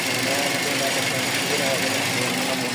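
A small engine idles steadily while warming up, close and loud with a constant rough drone, a voice talking over it.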